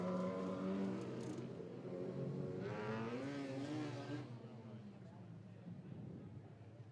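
TQ race cars running at Ruapuna Speedway during a sprint car title meeting: a continuous engine drone with a rising rev as cars pass, steady and fairly loud, with a commentator's voice over the noise.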